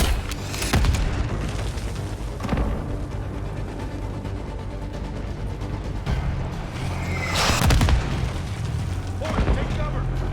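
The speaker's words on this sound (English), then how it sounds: "Incoming mortar!" Mortar shells exploding in Call of Duty Black Ops 6 combat: heavy booming blasts land in bursts, some close and loud, others duller, over rumbling battle noise and shouted voices.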